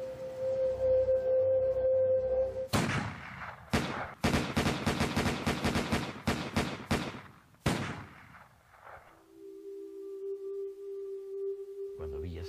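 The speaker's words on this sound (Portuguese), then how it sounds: "desferiram 150 tiros no carro em que viajava" A rapid volley of rifle gunfire aimed at a car, loud bursts of many overlapping shots in a dense stretch, ending abruptly before a steady tone takes over.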